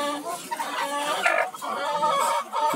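Caged chickens of a golden breed cluck and cackle close by at a bird shop, a steady overlapping chatter of several hens for a few seconds.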